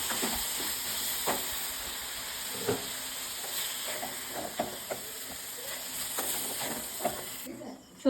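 Continuous hissing sizzle of mixed vegetables frying in oil in a kadai, with scattered stirring clinks and scrapes throughout.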